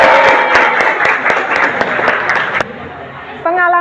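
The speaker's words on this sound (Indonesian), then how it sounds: "Ibu minta kita tepuk tangan semua." Classroom applause from students answering their teacher's call, a burst of rapid, dense clapping lasting a few seconds before it breaks off and a voice begins speaking.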